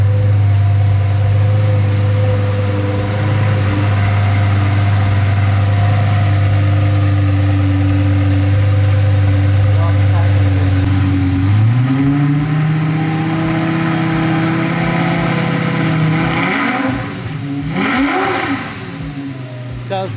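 A rebuilt Lamborghini Gallardo on factory exhaust with its vacuum lines pulled idles with a loud, steady low drone, then blips its throttle in short revs that rise and fall, while people talk nearby.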